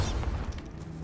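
Bombarda spell blast in the video game Hogwarts Legacy: a deep, rumbling low boom that starts strong and slowly fades over about a second, with no other sounds present.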